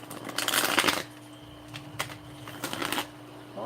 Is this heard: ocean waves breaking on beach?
no